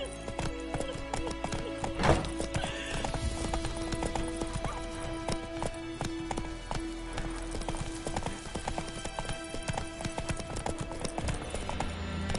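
Roach, a horse in The Witcher 3, trots with steady clip-clop hoofbeats throughout while a sharp neigh rings out early, all over a busy game soundtrack.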